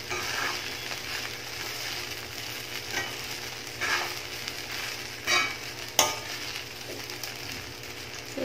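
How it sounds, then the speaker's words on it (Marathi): A sabudana khichdi mixture is stir-fried in a pan, with a soft, steady sizzle broken by several spoon scrapes and one sharp clack near the end, no voices. "आता हे सगळं आपण एकत्र असं परतवून घ्यायचंय 2 मिनिटं।"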